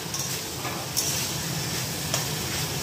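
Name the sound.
frying spices while stirring in a pan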